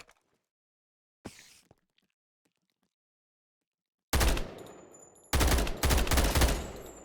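Gunfire in a modded Minecraft game aimed at Endermen: after near silence and one brief burst, two loud, close rapid-fire volleys rattle out in quick succession, the second running longer, with no voices.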